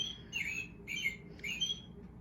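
A person whistles an imitation of a robin's call, up close with nothing else over it: three short, bright chirping bursts in quick succession, each rising then falling.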